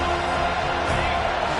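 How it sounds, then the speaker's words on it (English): Dense, steady roar of a home crowd in a packed college football stadium during Florida State versus Virginia Tech, a loud continuous wash of cheering with no break. "Man, this crowd really affecting the football game."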